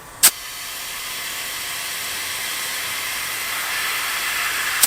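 Air hisses steadily from the tires of a seized 1960s luxury car, a continuous close hiss with a short click at the start and another at the end.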